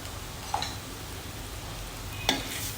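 Spiced raw banana sabzi, seasoned with salt and garam masala, is stirred in a pan: a soft low sizzle runs steadily beneath two distinct scraping strokes of a spoon.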